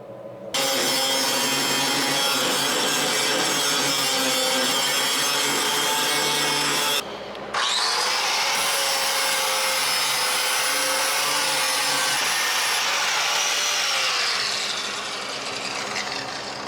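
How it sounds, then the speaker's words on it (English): An angle grinder smooths the edge of a weld on a V8-swapped Toyota Celica, a loud continuous grinding whine with a brief break midway, then resuming with shifting pitch as it works the metal and fades slightly at the end. "then I'm just going to grind this edge off and smooth it over so it's smooth edge"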